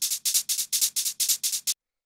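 Two swung shakers from a drum rack rattle in an even, bright sixteenth-note pattern, about eight crisp bursts, fairly soft and alone before stopping into silence.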